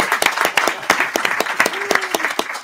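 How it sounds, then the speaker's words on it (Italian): Applause for an honoured guest on an Italian fan show about One Piece, a crowd clapping in close, sharp bursts that run unbroken for a few seconds. "un applauso per Toschi."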